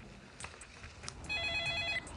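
A phone rings during a BlackBerry call to police headquarters; faint scattered clicks lead into a short, bright electronic ringing tone near the end, with no speech.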